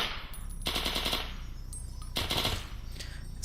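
Two short bursts of automatic fire from a silenced Sterling SMG in Fallout: New Vegas, each a rapid string of sharp, fairly loud shots separated by a brief pause, with faint mechanical clicks between.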